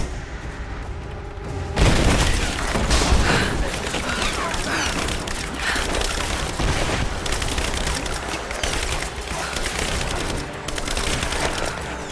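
Heavy sustained gunfire in Rise of the Tomb Raider on Hard difficulty as soldiers attack: after a quieter opening, dense overlapping volleys and booming shots erupt near and loud and keep going without pause, with voices mixed in.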